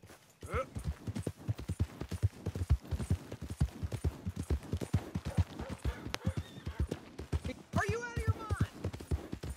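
Steady, rhythmic clip-clop of a horse's hooves in Red Dead Redemption 2, each strike close and distinct in a continuous walking pattern.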